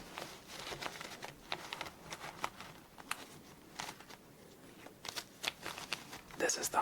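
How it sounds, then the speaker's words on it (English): Playing cards are gathered and shuffled for a solitaire game, giving soft repeated flicks, taps and papery riffles at an uneven rhythm, close and quiet, while a soft voice speaks over them at times. "let's get these cards back together."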